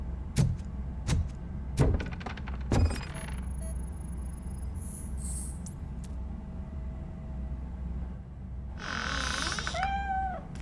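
A cat meows in the video game Robocop Rogue City, two or three short rising-falling cries late on, after a run of sharp clattering impacts and a high electronic whine.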